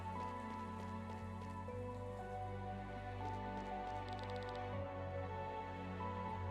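Heavy rain falls steadily in the video game Chained Echoes, a dense continuous patter over a low, sustained background hum, with no talking.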